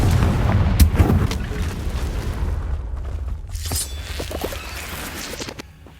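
Confringo, an explosive fire spell cast in the Hogwarts Legacy video game, bursts with a loud boom and a heavy low rumble at the start, then fades into a softer, rolling tail with a few scattered crackles.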